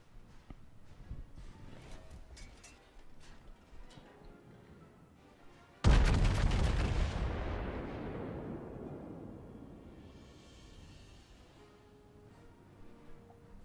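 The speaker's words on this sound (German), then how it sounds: "Da die nächsten Schüsse" A single heavy battleship gun salvo booms loudly in World of Warships, fired by the Montana against an Iowa, then rumbles and fades over several seconds after a stretch of quieter background noise.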